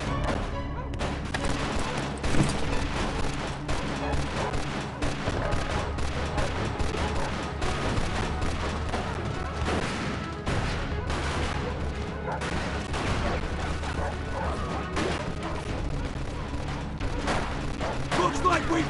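Dense, continuous machine gun fire and gunshots in the crime shooter Mafia 2, loud and unbroken for the whole stretch, layered over game music and effects with voices mixed in.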